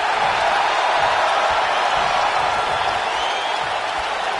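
A capacity arena crowd in WWE 2K19 roars steadily, a loud unbroken wash of cheering and applause, with no talking in this moment.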